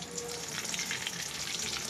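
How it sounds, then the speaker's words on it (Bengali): Egg-coated chicken fingers frying in oil, a soft, steady crackling sizzle that stays faint and even throughout. "এই দেখো ভাজা হচ্ছে,"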